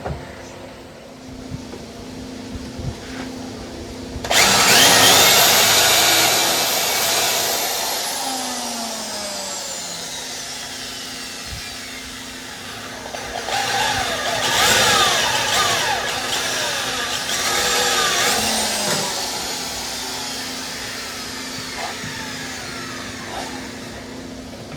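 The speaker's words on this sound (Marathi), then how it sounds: "drilling done" A power drill bores a mounting hole for a windshield bracket on a Royal Enfield Scram 440 motorcycle. It whines steadily at close range for about twenty seconds, starting abruptly and swelling again near the end.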